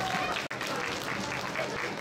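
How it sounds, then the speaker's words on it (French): An audience at a cosplay contest applauds the costume parade, a steady broadband wash of clapping with a brief gap near the start, moderately loud and continuous. "vous pouvez quand même applaudir encore une fois le défilé cosplay qui a été extraordinaire"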